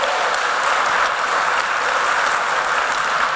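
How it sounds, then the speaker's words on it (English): A comedy-show audience claps for a comedian in a dense, steady roar of applause that fills the whole stretch evenly, loud and close, with no talk over it. "round of applause, my friend Terry McHugh."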